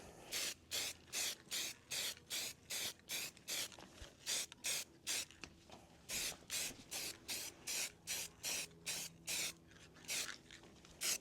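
Spray paint hissing from an aerosol can in short, even bursts onto old light fixtures during a second coat, about twenty rhythmic puffs close by with no talking.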